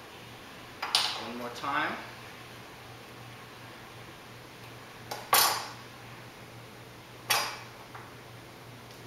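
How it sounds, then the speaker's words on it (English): A spoon scrapes avocado flesh from its skin in a few short, separate scoops, with a person talking in between and a low steady hum underneath. "Just take a spoon, scoop the avocado out of its skin."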